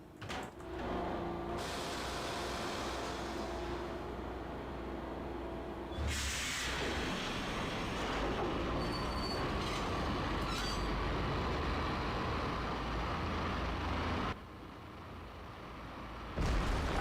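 A subway train in the video game Max Payne rumbles steadily along the rails with metallic squeals and clatter, loud and continuous, with an abrupt shift partway through and a quieter stretch near the end.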